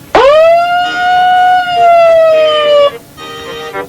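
A police siren within a song on a radio broadcast, sounding loud and close as one long sustained wail that holds steady for about three seconds, then cuts off into a brief quieter tail.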